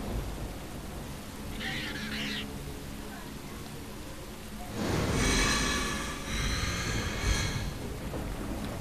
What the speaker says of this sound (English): But we're standing in the rain.